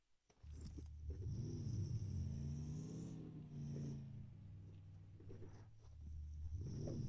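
A car engine in the PUBG Mobile video game revs and rumbles low and throaty as the vehicle drives, its pitch rising and falling with acceleration over several bursts, fairly close and with no talk over it.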